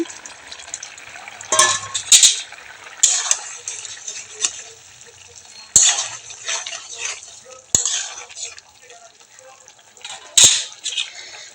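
Small fish for a Bengali chochchori are stirred in a pan as they fry: a soft sizzle broken by sharp metallic clanks and scrapes of the spoon at irregular intervals, close up.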